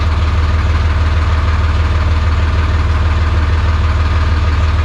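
A tractor engine idles close by with a loud, steady low throb and an even mechanical pulse that never changes for the whole stretch. No one speaks over it.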